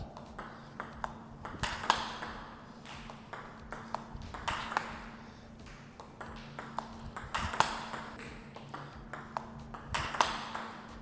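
A table tennis ball clicks sharply and dryly off Fastarc G-1 paddle rubber again and again in a quick rally rhythm, with faint room noise and a low hum underneath.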